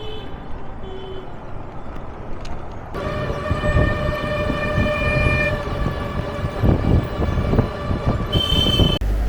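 The Agnibina Express, train number 735, rolls past at Mymensingh Junction in Bangladesh with a steady loud rumble of wheels and cars, a long sustained horn blast over it and a second short horn toot near the end.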